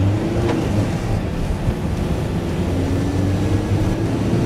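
A Volkswagen ID.Buzz and a Volkswagen Transporter accelerate hard on snow, giving a loud, steady rumble with road and wind noise that holds evenly for the whole stretch, with no voices.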